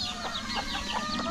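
Native chickens on a small farm cluck in quick, close bursts, a few short calls overlapping in a brief flurry.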